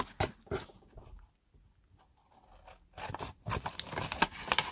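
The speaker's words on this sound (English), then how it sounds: "for time purposes, we're just going to cut these out" Scissors snip through paper pieces for a craft book page, a quiet sequence of close, crisp cuts with a short pause in the middle, then quicker snipping toward the end.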